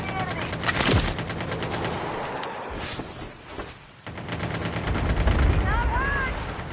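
A Fennec submachine gun fires in a battle royale video game as a dense, rapid-fire buzz of shots in sustained bursts, loud and close, with a short gap, then more fire and other game sounds.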